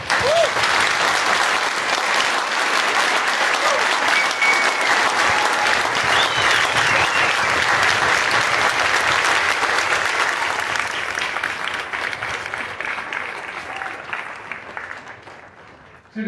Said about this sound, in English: Please join me in a round of applause for these great soldiers on the field today.